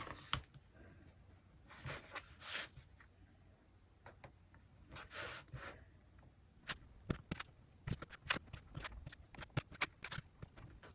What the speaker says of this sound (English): I'm going to carve a slightly wider channel with my U tool all around the outside